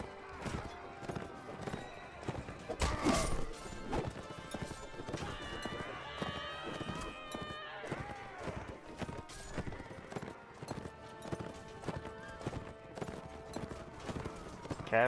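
A horse gallops in the video game Mount & Blade: Warband with a steady, rapid drum of hoofbeats, letting out a whinny partway through, with faint voices underneath.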